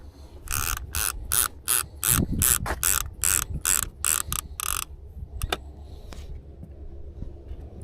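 A fishing reel's bait clicker ratchets in a rapid run of loud, evenly spaced clicks during lakeside catfishing, then stops, leaving a few isolated clicks against quiet outdoor background.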